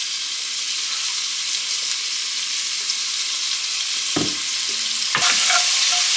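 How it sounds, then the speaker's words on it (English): Bacon fries in olive oil inside a Dutch oven, producing a bright, constant hissing sizzle with a couple of clunks from stirring or moving pieces toward the end, and no talk. "I have a little bit of olive oil in there. And to that, I'm just going to add the bacon."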